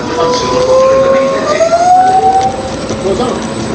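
A train at a station in Venice, Italy, with a high, steady brake or wheel squeal that rises slightly in pitch over a low rumble and station ambience, loud and close, no talking.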